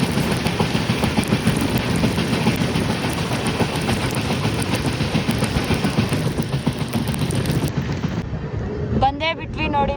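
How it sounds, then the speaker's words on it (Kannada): An express train speeds past on a crossing, heard from aboard another train on the Bengaluru to Mantralayam line: a loud, continuous rushing roar with faint rail clatter that cuts off abruptly near the end. "ಹೆವಿ ಸ್ಪೀಡಲ್ಲಿ ಹೋಗ್ತಾ ಇದೆ ಟ್ರೈನ್."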